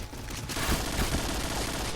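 Automatic AR rifle fire in the shooter game Point Blank, a steady dense burst of rapid shots running nearly the whole time at close, even loudness with no talking.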